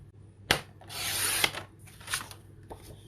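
A paper trimmer slices through cardstock in a close, brief scraping rush, bracketed by sharp clicks and knocks of the blade and board, with no talking.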